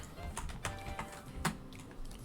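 Clicks come from a computer mouse or keyboard while a Pokemon Platinum game is played, a handful of sharp, irregular taps, close and fairly quiet over a low background hum.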